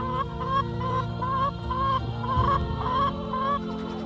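Several chickens cluck repeatedly and close by, a busy overlapping chorus with no talking.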